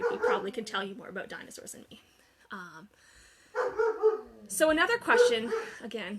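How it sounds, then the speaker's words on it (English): A dog barks and yips intermittently in the background while a person speaks in the foreground, the barks short and moderately loud between phrases. "sorry about the barking in the background"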